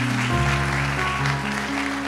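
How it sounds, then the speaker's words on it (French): Congregation applauding the musicians at a worship and praise evening, steady crowd clapping mixed with sustained keyboard or organ chords, fairly loud and continuous. "On les applaudit"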